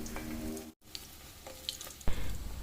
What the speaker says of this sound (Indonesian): ini Mbak Ica lagi goreng bakmi ya teman-teman.